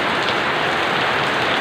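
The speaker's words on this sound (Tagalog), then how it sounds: "Grabe, ang lakas ng ulan." Heavy rain pours steadily, a dense, loud hiss of drops hitting surfaces with no pauses.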